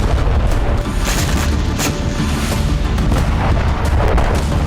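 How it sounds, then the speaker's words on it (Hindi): Heavy explosion at a Ukrainian weapons depot storing Western-supplied arms, struck in a Russian drone attack; a loud, sustained roar of deep rumbling blasts and crackling bursts runs throughout with no voices. "दावा है कि डिपो में पश्चिमी देशों से मिले हथियार मौजूद थे, जिसकी वजह से यहां जोरदार धमाका देखा गया।"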